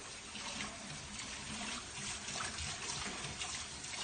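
Running tap water rinses an enamel-coated cast iron pan, a steady broadband wash of splashing water that holds evenly throughout, close and moderately loud, with no voices.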